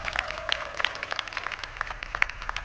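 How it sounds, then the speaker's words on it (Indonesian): Scattered applause from a small audience at a televised magic show sounds faint and fairly distant, with irregular light claps over a low steady background hum. "tepuk tangan dulu dong buat Indri."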